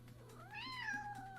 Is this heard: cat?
yes